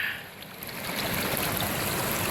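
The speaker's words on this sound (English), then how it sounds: "the river's surging like crazy" A surging river rushes loudly and continuously nearby, a broad roar of churning water that swells slightly after the first half-second and holds steady, with no voices.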